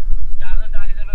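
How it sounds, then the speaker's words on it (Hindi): Strong mountain wind buffets the microphone outdoors, a steady low rumble with gusts throughout, while faint tonal, voice-like sounds rise over it partway through. "दोस्तों अगर आपको हवा की आवाज़ सुनाई दे रही तो बहुत हवा चल रही है आज"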